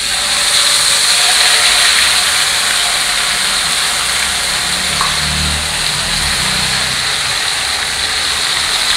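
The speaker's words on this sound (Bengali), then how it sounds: "একটু বেশি আগুন দিয়ে ভেজে নেই।" Chicken fries in a pot over a high flame, giving a steady, close, broad sizzling hiss that holds evenly throughout with no talking.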